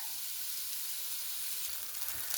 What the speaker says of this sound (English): I'm browning my hamburger there